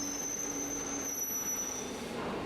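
Metal wheels squeal in high, sustained tones as a subway train brakes, under a steady rumbling roar of the carriages.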